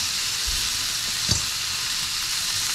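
A steak sizzles steadily in a hot pan right after being flipped, with a continuous close frying hiss and a single brief thump of movement partway through.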